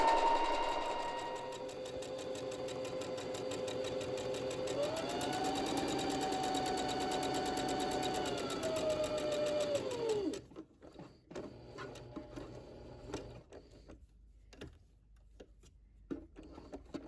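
A sewing machine stitches around a corner of wrap pants in a steady whirring run that slows and shifts pitch midway, then stops, leaving scattered soft clicks and handling noises.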